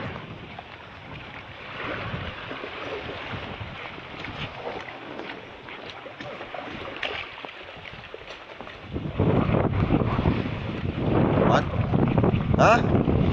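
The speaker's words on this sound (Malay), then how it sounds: "Angin tak lawak." Strong storm wind buffets a boat at sea, roaring steadily against the microphone and growing louder and rougher near the end, with brief voices heard.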